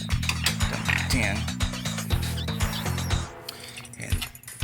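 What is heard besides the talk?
loosening alternator nut on Toyota Camry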